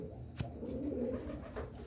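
Pigeons coo softly and continuously in a quiet setting where breeding pairs are kept, a faint, low murmur with one brief sharper sound partway through and no talk.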